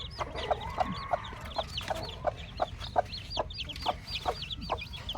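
A hen clucks near her three newly hatched chicks in a Philippine backyard, with a steady run of close, rhythmic soft clucks and faint high chick peeps over a low outdoor rumble.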